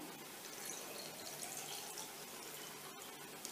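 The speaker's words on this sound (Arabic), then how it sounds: "هاد الذره الصغيره هادي حتى هي غادي ندير لها هاد الماء" Water poured into a jar of small corn kernels being home-canned, a soft, faint, continuous trickle and splash close by with no talking.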